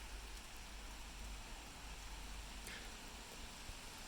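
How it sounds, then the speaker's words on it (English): Heavy rain falling steadily during a September storm, a dense continuous hiss of drops close by with no talk. "You can see the rain really starting to ramp up now."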